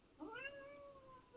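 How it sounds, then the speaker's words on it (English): A single cat meows once, a drawn-out rising and falling cry, fairly faint and somewhat distant. "I think I just heard a meow."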